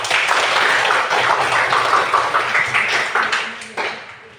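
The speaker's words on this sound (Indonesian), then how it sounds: "kita berikan tepuk tangan untuk kelompok 4" A class of students applauds group 4 during a school lesson, a sustained round of many hands clapping that gradually thins and fades toward the end.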